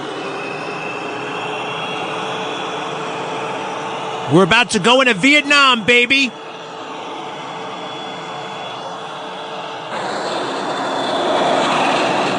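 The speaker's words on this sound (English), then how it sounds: "He's about to tell me to rev up my engines." Jet engines on an aircraft carrier deck in a Vietnam-era video game build to launch power: a steady roaring drone that swells louder near the end, with someone briefly talking over it midway.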